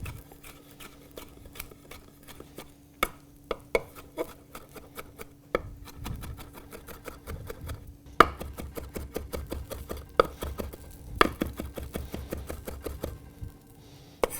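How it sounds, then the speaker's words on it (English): A knife chops Vidalia onions in quick, quiet, uneven taps that pick up into a steadier rhythm partway through, with no talking. "You want to be careful chopping these because they'll be very slippery and slidey."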